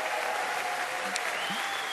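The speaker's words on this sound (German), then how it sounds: "Ihr Lieben, donnernden Applaus" Dense, steady applause from a large audience at a Badisch-Pfälzische Fasnacht carnival show in Frankenthal, a continuous roar of many hands that holds at full strength from start to finish.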